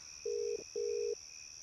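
A telephone ringback tone plays during a call in a Tamil film comedy scene: two long, steady buzzing tones separated by a short gap, over a constant thin high whine, with no talking.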